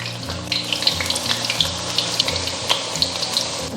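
Shredded taro deep-frying in hot oil over medium heat gives a dense, steady bubbling hiss with scattered sharp crackles and pops, close and fairly loud, with no voices.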